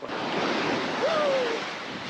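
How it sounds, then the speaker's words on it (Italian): Ocean surf rolls onto Playa de los Ojos, a beach in southern Fuerteventura, as a steady, loud wash of breaking waves with wind rushing over it throughout. "Un'altra bellissima spiaggia!"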